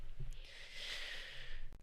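A single long nasal sniff from someone with allergies and an itchy nose, a steady airy hiss lasting over a second, close to the microphone and with no talking over it.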